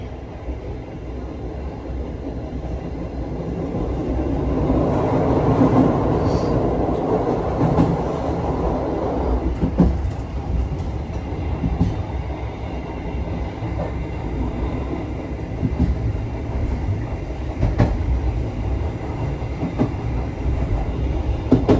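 The KA Matarmaja passenger train runs on rails, a loud continuous rumble with rhythmic clickety-clack of wheels over rail joints and a brief metallic squeal, heard from close by with no talking.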